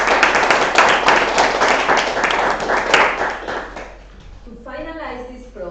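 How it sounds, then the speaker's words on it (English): A grade 10 class applauds at the close of a global warming debate, with dense, sustained clapping for about four seconds that thins out before a voice starts talking. "let's give ourselves a hand"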